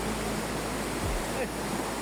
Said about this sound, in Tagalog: malakas ang agos ng tubig